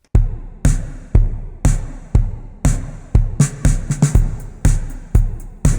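A steady four-on-the-floor drum loop, kick hits with snappy upper transients and a washy reverb tail trailing each beat, played alone.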